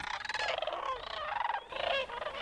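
A crowd of cranes calls on a pond at Bosque del Apache at dusk, a dense, loud, overlapping chorus of rolling, trumpeting cries that runs continuously with a brief dip partway through.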